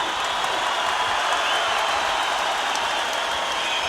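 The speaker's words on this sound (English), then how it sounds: "Well, the crowd are cheering." An arena crowd at an M-1 Challenge MMA event cheers as a round ends, a steady, distant roar of applause and shouting that holds at an even level throughout.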